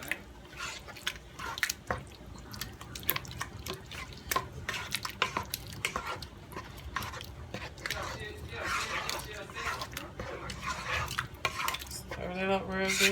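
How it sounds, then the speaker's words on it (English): A spoon stirring Great Northern beans seasoned with Tony's in a metal pot, repeated clinks and scrapes against the pot with wet sloshing, mixed in with someone talking. "I'm going to give this a good mix"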